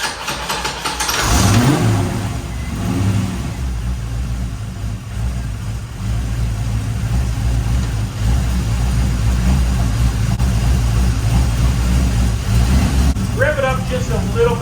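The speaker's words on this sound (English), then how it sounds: "see if it will start up here" A 1989 Corvette engine with a misfire cranks, catches and settles into a steady, loud mid-pitched running rumble close by, with a voice briefly heard near the end.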